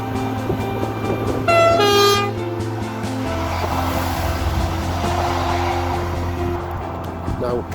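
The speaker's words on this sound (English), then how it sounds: "There's a train coming" A high speed train rushes past outdoors with a loud, steady rumble and rolling rail noise, a brief horn-like tone rising near the start, while people talk nearby.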